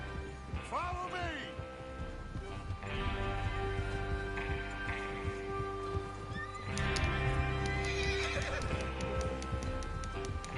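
Horses neigh and whinny several times in Red Dead Redemption 2, with hooves clip-clopping and shuffling nearby under a constant background hum. Voices are also heard.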